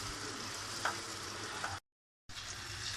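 Egg masala chicken frying in a pan gives a steady close sizzle with a couple of faint utensil taps. It breaks off into a short silence, then the frying resumes.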